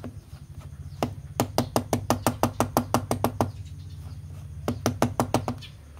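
A yellow Bialetti-style moka pot's coffee basket rapped against a surface to settle the grounds, a rapid run of about fifteen sharp knocks, a pause, then another quick burst, loud and close with no voice.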